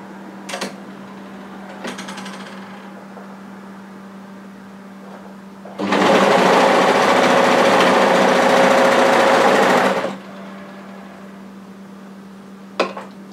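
A sewing machine stitches cardigan pieces in one loud continuous run of about four seconds, with a steady whirring hum, bracketed by quieter handling clicks and a constant background hum.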